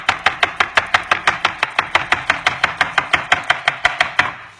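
A knife slices cucumber thinly on a cutting board, a steady run of about twenty quick, crisp chops in an even rhythm, close and clear with no talking.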